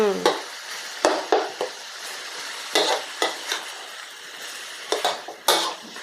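Minced pork stir-fried in a pan and broken apart, with repeated sharp scrapes and clacks of a utensil against the pan over a low sizzle, close and fairly loud.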